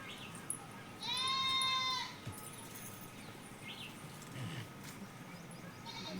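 A goat gives one loud, clear bleat lasting about a second, with faint background noise and quiet sounds following, recorded during an outdoor village shoot.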